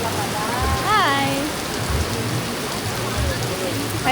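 Steady rain falls at Alona Beach, a constant loud hiss close by, while a voice speaks briefly over it.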